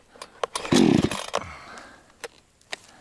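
A chainsaw fails to start, with a quick sputtering burst from the engine and several sharp pull-cord clacks before and after it, close by and with no voices.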